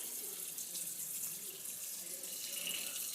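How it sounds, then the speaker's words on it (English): Kitchen tap running steadily into a sink while fish fillets are rinsed under it, a soft, even hiss of water heard close and alone. "My daddy's washing the meat off."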